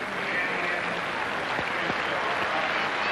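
A stadium crowd roars and applauds steadily during men's javelin at the 1994 European Championships in Helsinki, a dense, continuous wash of cheering heard from a distance with a few scattered thumps.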